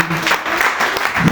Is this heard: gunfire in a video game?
no